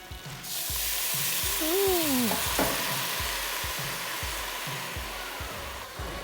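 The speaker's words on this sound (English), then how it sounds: "And this is where we scrape the pan." A utensil stirs and scrapes a sizzling pan during cooking. A steady, hissing fry is broken by regular scraping strokes close up, with a brief squeak partway through.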